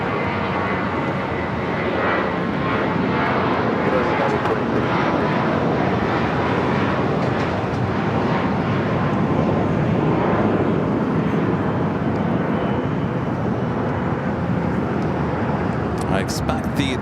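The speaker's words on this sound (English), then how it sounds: "United Airbus taking off here on the south side" A United Airbus airliner roars continuously as it takes off from the south side at LAX, the engine rumble loud and sustained while a voice talks over it.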